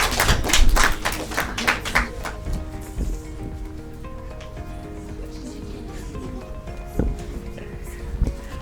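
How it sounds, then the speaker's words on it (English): A studio audience at a Children's Day quiz show breaks into a burst of clapping after a correct answer; the applause fades after a few seconds, and a host talks over the quieter stretch that follows. "Clap for her."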